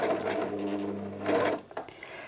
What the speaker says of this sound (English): Now I'm just going to sew a couple of stitches and then I'm going to stop.